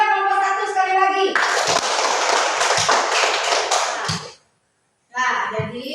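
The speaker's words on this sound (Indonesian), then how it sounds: "Berikan aplaus kepada nomor 1 sekali lagi" Classroom applause for a pupil: a burst of clapping from a class of young children, steady and dense for about three seconds, then stopping abruptly, with voices resuming after a short silence.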